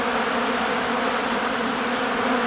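Honeybees in a weak hive in February drone in a steady, dense buzz. The sound is close and loud and runs unbroken throughout, with no voices.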